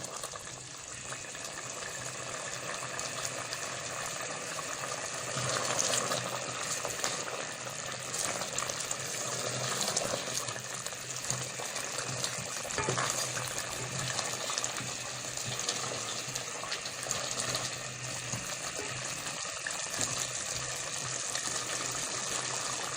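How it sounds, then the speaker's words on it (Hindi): Chicken handi cooking in a pot over high heat as its water boils off, a loud continuous sizzle and bubbling hiss heard close up without any voices. "चिकन गल गया है और अब हम आग तेज़ करेंगे ताकि इसका पानी खुश्क हो जाए।"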